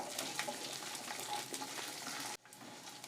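Ginger and garlic sauté in oil with roasted chana dal for masala dosa, a steady close sizzle with light stirring that cuts off abruptly near the end and then resumes more quietly.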